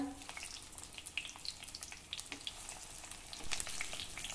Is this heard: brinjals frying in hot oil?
yes